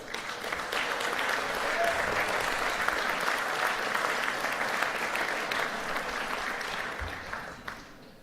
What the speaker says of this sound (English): So give them another hand, absolutely.